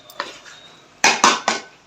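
Hot tadka is added to a potato and carrot curry in a pot, giving a few sharp clattering metal hits and a brief sizzle, close and fairly loud.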